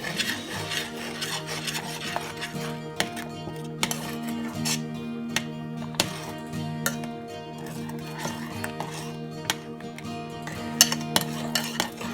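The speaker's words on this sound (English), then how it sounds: "And then stir it very nicely." A spoon scrapes and rubs steadily around a pot of masala chai with tea powder, with occasional light clinks against the metal. The sound is soft and close, with no talking.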